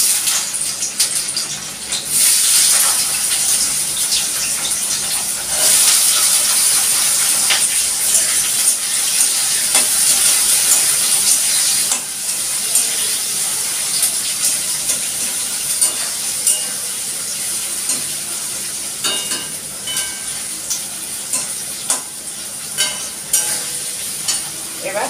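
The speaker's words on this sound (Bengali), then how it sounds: "আর এই যে পেঁয়াজ কুচিগুলো দিয়ে দেবো" Chopped onions sizzle steadily in hot oil in a pan, a continuous bright frying hiss that stays loud and close, with occasional stirring clicks, for a chicken chow mein cooked at home.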